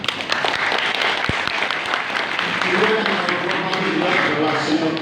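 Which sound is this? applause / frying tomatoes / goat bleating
applause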